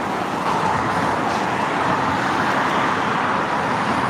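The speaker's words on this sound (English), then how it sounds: "Comes a Walmart truck." A Walmart truck passes on the road, a steady broadband roar of tyres and engine that holds loud and close across the whole moment, with no talk over it.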